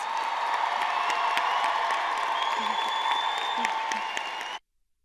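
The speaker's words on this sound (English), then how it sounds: "Can you please help me give another large round of applause for our graduates?" Graduation ceremony audience at Stivers School for the Arts applauding and cheering for graduates, a dense steady wash of clapping with occasional whoops that cuts off abruptly near the end.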